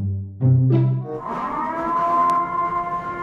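A purge-style siren played as a prank rises from a low wail into a loud, sustained, steadily pitched tone that sounds close and fills the whole stretch, with no one speaking over it.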